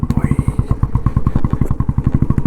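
A Royal Enfield Bullet Standard thumps under load, its single-cylinder exhaust beating in a fast, even, loud pulse close by, with a brief rising whine early on.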